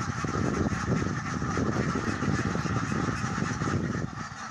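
Dense, continuous quacking from a large flock of laying ducks leaving their housing on a duck farm, close and loud, many overlapping calls with no pauses.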